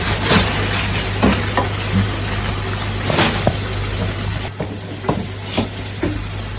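Masala-coated chicken pieces go into a pot of chicken soup and get stirred. A utensil knocks and scrapes in an irregular rhythm over a constant bubbling, close-up cooking hiss.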